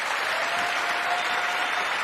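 Sustained applause from a large audience at a State of the Union address, a dense, steady clapping wash that holds evenly throughout.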